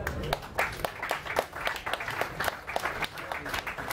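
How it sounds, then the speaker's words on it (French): Applause from an audience at a French trade-union and political meeting on syndicalism, the Medef, the EU and war, greeting a speaker being introduced at the table; steady, fairly loud clapping with some louder claps, no voices heard. "je vous remercie donc d'applaudir"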